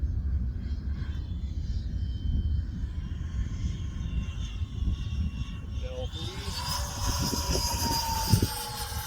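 Freewing F/A-18C RC model jet making a low gear pass over a rough bush strip, a steady whooshing turbine-like roar from its electric ducted fans that rises and sharpens toward the end as it draws closer.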